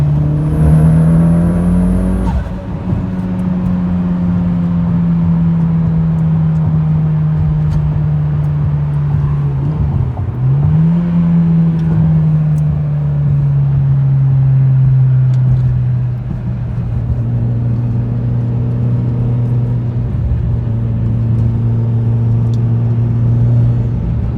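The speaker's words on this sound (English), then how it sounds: "We'll give it a little pull here. Oh, that's fast." Car engine in a Mitsubishi Lancer Evolution pulls hard on a road in Mexico, revving loudly and steadily climbing through gears with a brief shift dip, a strong continuous close roar throughout.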